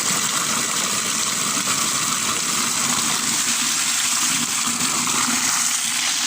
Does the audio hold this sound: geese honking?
no